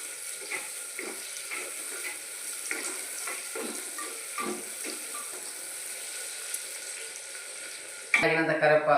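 Onions, green chillies and curry leaves fry in a pot with a low hiss and intermittent scraping stirs, ending in a sudden louder burst of sizzling near the close.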